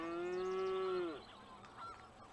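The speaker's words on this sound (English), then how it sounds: "I leave my alarm going in the morning, so let's snooze because I let it go." A morning alarm goes off with one long, loud honking tone lasting about a second, then cuts out into quiet room noise.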